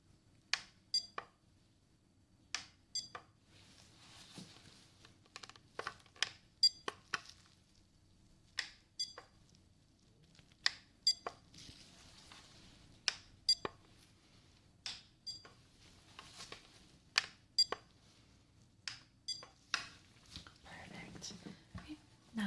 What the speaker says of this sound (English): I'm going to be making a beep sound, and I want you to tell me what side you hear the beep